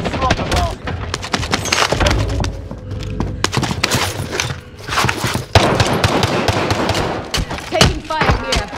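Gunfire in Call of Duty Warzone: rapid automatic bursts and sharp single shots crack close and loud over a busy battlefield. The firing is irregular and comes in clusters, with brief voices in between.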